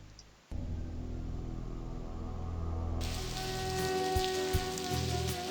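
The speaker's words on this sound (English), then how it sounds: "Ah, it's raining now." Rain falls in the adventure video game Blackwell series, a steady hiss of rain on surfaces starting abruptly after half a second over a low musical background, brightening partway through with a few soft taps.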